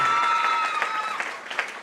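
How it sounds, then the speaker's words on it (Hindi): A crowd claps at an honouring ceremony for Anjum Khatoon, a short burst of dense applause that carries evenly and fades slightly, with a little murmuring underneath. "ताली भैया, ताली थोड़ा जोर पड़ना चाहिए।"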